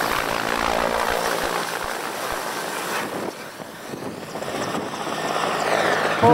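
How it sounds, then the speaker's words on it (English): A Russian helicopter drones steadily nearby, a loud continuous engine and rotor roar that holds throughout with slight shifts in intensity. "The Russian helicopters are pretty good."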